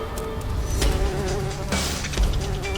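Honeybees buzzing around a hive under attack by a honey badger, a steady dense insect drone filling the scene with brief louder swells, no voices over it.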